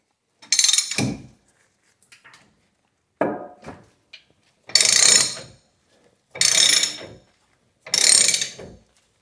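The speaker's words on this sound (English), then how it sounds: "as you turn the axle nut, this will stop it from turning. You need a 35 millimeter socket" Ratchet clicking as it turns a truck's axle nut with a 35 mm socket during wheel hub bearing replacement, five separate bursts of rapid close clicks with short pauses between.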